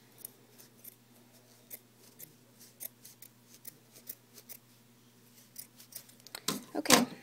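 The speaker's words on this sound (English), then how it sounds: "Make sure you have a good pair of scissors when you're cutting felt" Sharp fabric-cutting scissors slicing through felt, a run of short crisp snips spaced irregularly, quiet at first and growing louder and closer toward the end, with a steady low hum underneath.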